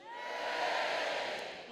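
Stand-up comedy audience in Dudley cheering together, a broad, steady roar of many voices that swells through the middle and holds for the whole stretch, with no talk over it.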